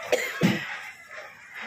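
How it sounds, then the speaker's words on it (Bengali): Several harsh coughs from a person with a cold, two loud bursts close together near the start followed by quieter breathy coughing, close to the listener with no talk. "এত মানে কাশির ঝুল চলে এলো কোথা থেকে বুঝতেই পারছি না।"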